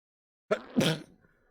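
A single short sneeze, close and clear, following a brief quiet moment.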